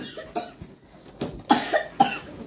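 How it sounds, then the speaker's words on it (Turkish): A small child gives several short, quiet coughs in a burst-like pattern, indoors after running around and playing with clown balloons. "Şimdi öksürüyorsun, değil mi?"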